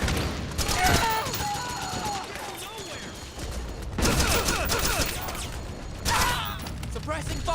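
Bursts of battlefield gunfire in Metal Gear Solid 4: Guns of the Patriots, with rapid volleys returning roughly every few seconds, mixed with mechanical clatter and shouted voices.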